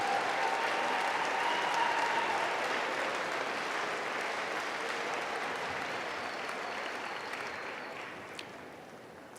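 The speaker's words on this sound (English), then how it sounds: "How about one more round of applause for all those people who made it possible for the graduates to be here today?" A large audience at a university commencement ceremony claps in sustained applause that slowly tapers off, with a faint tone and a small knock near the end.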